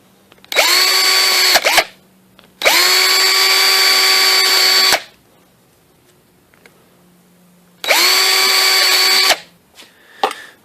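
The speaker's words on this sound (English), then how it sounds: "just going to drill this thing out." A power drill whines loudly in three separate bursts while drilling out a plastic piece on a Cadillac Escalade rear door handle, each spinning up to a steady high pitch, with quiet pauses between and a brief clatter at the end.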